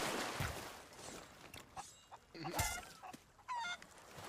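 Chickens on a beach in the Sea of Thieves video game cluck and squawk in a few short honking bursts over a steady surf-like wash of background noise, with no talk.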